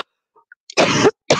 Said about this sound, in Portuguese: Desculpem a tosse, não é COVID